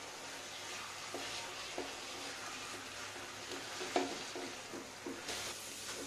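Lauki barfi mixture of grated bottle gourd and dried coconut being stirred in a pan, a steady soft sizzle with faint scraping strokes of the spoon, close and fairly quiet, with no voices.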